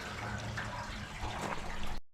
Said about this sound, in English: Chunks of particles of rust getting flushed out of this tank.